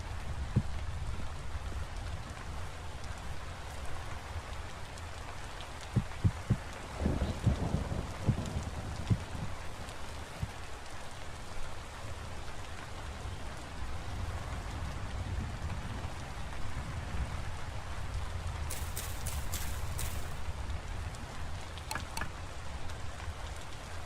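Steady rain falls in the Vintage Story survival game, a dense continuous hiss with a few brief louder patters and clicks partway through, no talking.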